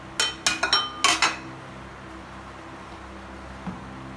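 A cluster of sharp metallic clinks and scrapes from a spoon against a bowl while a minced chicken mixture for koyi vada is stirred, close and crisp, then fading to quiet room tone with one faint knock.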